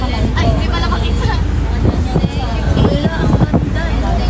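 Gusty wind in Vietnam buffets the microphone with low rumbling, while people talk intermittently over it.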